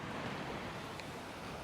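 Surf rolling onto the sandy shore of Nai Thon Beach in Phuket, Thailand, a steady broad wash of waves with some wind, continuous and fairly loud, no voices.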